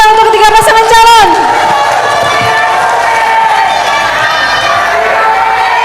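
An election debate audience for regency head candidates breaks into applause and cheering, loud at first with a burst of whoops and shouts, then settling into a sustained clapping roar.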